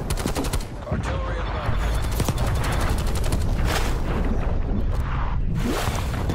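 Artillery strike in Call of Duty: Black Ops Cold War, a dense run of gunfire and explosive bursts crackling without pause, with whooshes and a heavy boom near the end, all loud and close throughout.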